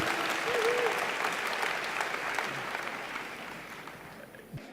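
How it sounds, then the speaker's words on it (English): An audience at a racing sports-ambassadors event gives a round of applause, steady crowd clapping that slowly thins and fades toward the end, with a few faint voices underneath. "I think that deserves a round of applause right away"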